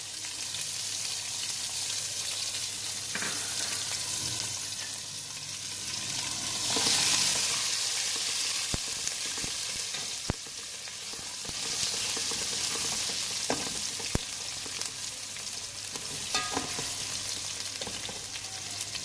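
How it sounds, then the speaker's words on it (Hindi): Chopped onion frying in oil with ginger garlic paste for tahari, a continuous close sizzle that swells and fades, with spoon scrapes and clicks against the pan and no talking. "अब ये थोड़ा सा ब्राउन होना शुरू हो गया तो मैं इसमें अपनी ये 1 चॉप की हुई अनियन ऐड करूँगी"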